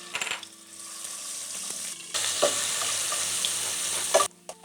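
Garlic and cumin seeds fry in hot cooking oil in a pan, a steady close sizzle that surges louder partway through, with a few light clinks of a utensil against the pan.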